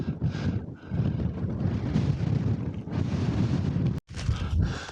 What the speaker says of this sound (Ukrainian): Капець вітер дуже сильний.